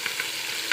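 Minced beef keema frying in a pan with ginger-garlic paste gives a close, steady sizzle, with a couple of brief stirring scrapes.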